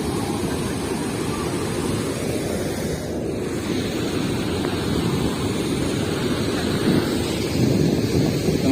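Water pours steadily over the dam on the Kharun river in Raipur, a continuous broad rushing roar with wind buffeting the microphone, loud and unbroken throughout.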